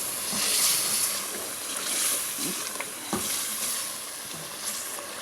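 Yogurt sautéing in oil for turnip chicken, a broad steady hissing sizzle with occasional soft stirring knocks, close and fairly loud throughout, no speech.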